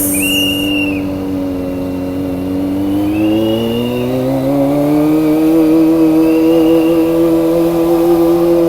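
A Kawasaki ZX25r inline-four motorcycle revs steadily on a city ride through Baguio City's central business district, its engine note climbing and sweeping in pitch, loud and close throughout with no talk.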